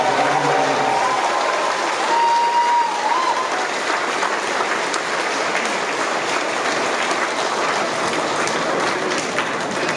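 An audience at a 2024 graduation ceremony applauds the graduating class with sustained, loud clapping that holds steady throughout, thinning slightly toward the end.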